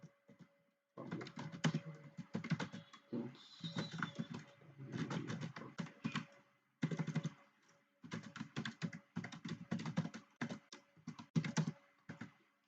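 A computer keyboard clatters in quick bursts of typing while code is written, close and fairly quiet, with brief pauses between runs of keystrokes and no speech.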